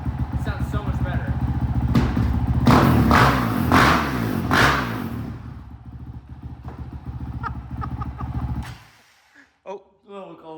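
A 2025 Honda CRF450X dirt bike with a new FMF exhaust pipe revs hard and loud up close, the engine rising and falling through several throttle blips before cutting off, followed by a few short sounds at the end.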